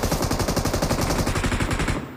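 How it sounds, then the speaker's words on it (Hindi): Rapid automatic rifle fire in the PUBG Mobile shooter game, a sustained burst of evenly spaced, punchy shots lasting about two seconds before cutting off abruptly, loud and close with no talking. "ये देखो एक गोली चला रहे होते मेरे टीममेट पे"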